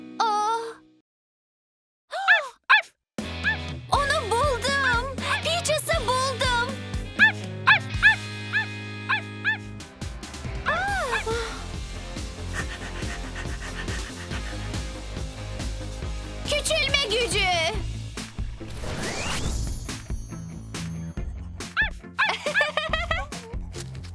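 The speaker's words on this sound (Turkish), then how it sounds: "Havlama sesi duyduğuma eminim." A cartoon dog in an animated children's show gives a run of barks, yips and whimpering wails, mixed in with bright music and character voices talking around it.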